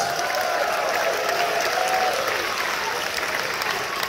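A large crowd at a world premiere event for a major film franchise in Singapore applauds and cheers loudly and continuously, with a sustained dense roar of clapping and whoops.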